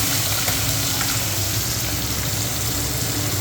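Onion and garlic frying in hot oil with bay leaves, a steady, dense sizzle and crackle that continues evenly throughout at close range.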